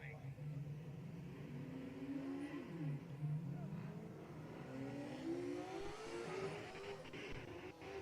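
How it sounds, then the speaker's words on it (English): A Corvette race car with a big rear wing climbs a hill-climb course, its big engine revving and shifting up and down in pitch at a distance while a commentator talks over it. "Another awesome Corvette with a big wing."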